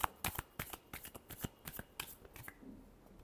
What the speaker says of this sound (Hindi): अपने पर्सन के लिए लास्ट शफल।